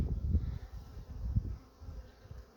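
Honeybees buzzing around their hives in an apiary in Germany in spring, a low droning hum with pulsing swells as bees pass close, no voices.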